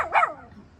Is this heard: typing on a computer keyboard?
no